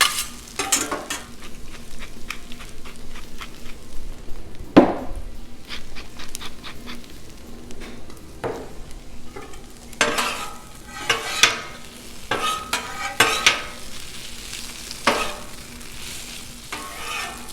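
Spicy Italian sausage sizzles in oil and butter on a Blackstone griddle while a spatula scrapes and stirs it in repeated sharp strokes over a steady frying hiss, fairly close.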